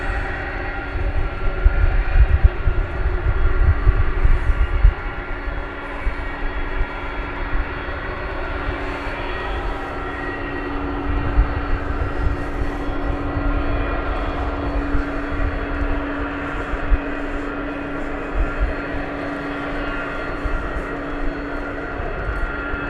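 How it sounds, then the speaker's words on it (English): A tri-jet airliner's engines roar steadily at night at DFW Airport, heard from a distance. The sound swells louder early on, then settles into a sustained rumble and whine. "look at those engines spool up"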